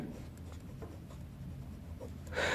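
Chalk or marker scratches across a board during a Class 7 maths lesson, a run of quick, light strokes that ends in a louder, brighter scrape.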